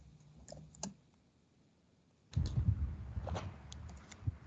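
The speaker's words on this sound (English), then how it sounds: "I hate typing." Typing on a computer keyboard during a class recording: a few scattered clicks at first, then a denser, louder run of keystrokes in the second half, close to the microphone with no talk.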